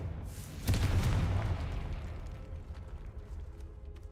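A Confringo spell explosion in Hogwarts Legacy lands as one loud, deep booming blast, then rumbles and fades slowly over a few seconds with no voices.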